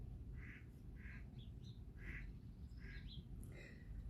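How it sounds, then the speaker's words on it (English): Ducks quack outdoors, about five or six short, distinct calls at an even spacing, faint and some distance away over a low background rumble. "do you hear the ducks?"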